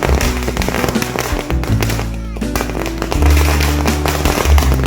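Diwali firecrackers go off one after another in a community celebration, giving dense cracks and booming thuds close by, with faint voices in the background.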